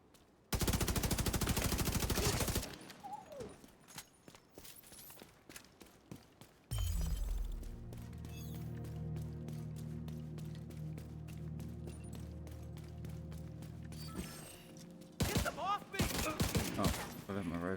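Assault rifle fire in The Division 2 comes in loud, close bursts: a long opening volley, a quieter stretch of game ambience, then more rapid bursts near the end.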